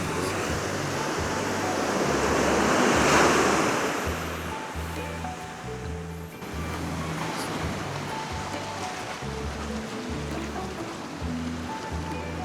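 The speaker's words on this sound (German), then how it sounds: "Das Meer hat einen super Sound." Sea waves break on a Corsican beach near a campsite, producing a continuous loud roar of surf with a swelling crash partway through and a steady wash of water afterward.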